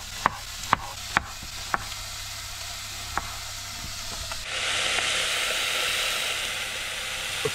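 Fish sears in a hot pan. A few sharp clicks and taps come first over a low background, then a loud, steady sizzle rises and holds close by, with no talking.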